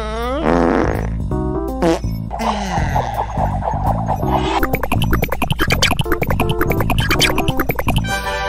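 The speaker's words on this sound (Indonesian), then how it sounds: "Tempelin pantat kamu ke pipa. Terus kentut." A long, loud cartoon fart sound effect from an animated children's episode, sputtering and rasping in a rapid series of bursts over a backing of music, with no one speaking.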